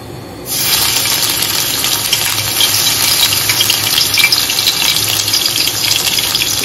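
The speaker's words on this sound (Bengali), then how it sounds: "চুলায় তেল দিয়ে দিলাম, এখন যাবে এর সাথে কিছু পেঁয়াজ বাটা" Onion paste hits hot oil in a pan on the stove for a hilsa dish, starting a loud, steady sizzle that holds without a break from just after the start to the end.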